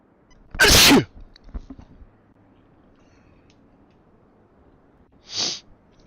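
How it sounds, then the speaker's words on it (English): A single loud, sharp human sneeze near the start, followed by a few quieter breathy sounds and a second softer sniff or snort toward the end, otherwise near silence. "I have to sneeze."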